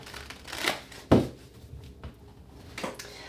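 A final shuffle of a tarot deck, close and quiet: papery riffling rustles with one firmer thump near the start and lighter shuffling sounds after, no talking.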